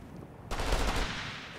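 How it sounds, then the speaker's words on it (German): Gunfire in the Operation Flashpoint video game: a sudden burst of rapid automatic shots that starts abruptly, stays loud for about half a second and then fades into a lingering echo. "wir werden beschossen"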